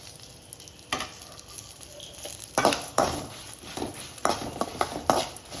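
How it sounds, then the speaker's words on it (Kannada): Pathrode, Tulu colocasia leaf rolls, fry in a pan with a steady close sizzle, broken by scraping stirs and clinks of a utensil against the pan. "ಪರಿಮಳ ಬರ್ಪುನ ಮುಟ್ಟ ಫ್ರೈ ಮಾಡ್ತಾನೆ ಮಾಡಿ"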